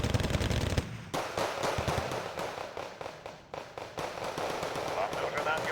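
Gunfire in the Wargame: Red Dragon strategy game, with rapid overlapping bursts of shots and crackling impacts that continue steadily throughout.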